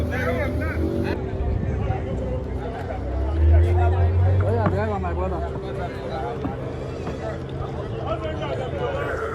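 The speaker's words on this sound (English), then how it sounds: "Just perching on cargo in an open boat" An open boat's motor drones steadily close by on a bay crossing from Calabar, Nigeria to Limbe, Cameroon, with people talking and chattering over the engine noise throughout.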